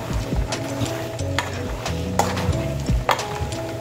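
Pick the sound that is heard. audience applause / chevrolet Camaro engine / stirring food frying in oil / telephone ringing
stirring food frying in oil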